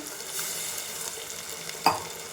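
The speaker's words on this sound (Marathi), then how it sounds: "आता टमाटर प्युरी टाकून घेते" Tomato puree goes into a pan of sautéed onion and ginger-garlic paste for rajma masala. A steady close sizzle hisses throughout, and a sharper stirring knock of the spoon sounds near the end.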